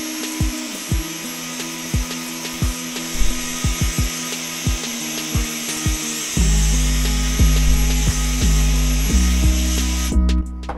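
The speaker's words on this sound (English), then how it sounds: "So just getting the Dyson out, bristle." A Dyson vacuum with a bristle brush hums as it cleans a computer cooling radiator, with repeated brushing scrapes, and the motor gets louder partway through.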